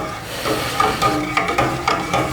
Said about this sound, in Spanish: y ahora mezclamos así despacito para que no se quema nuestro azúcar de maíz